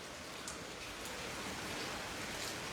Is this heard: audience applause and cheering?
no